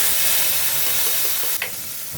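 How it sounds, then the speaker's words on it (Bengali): Tamarind water hits hot oil with mustard seed tempering in a pan, giving a loud, steady hiss and sizzle that eases slightly toward the end. "ঢেলে দিচ্ছি তেঁতুল গোলা জল"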